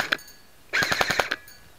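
G&G Combat Machine Raider tan airsoft M4 rifle: a single sharp shot, a short pause, then a quick full-auto burst of about eight rapid snapping shots, close and fairly loud.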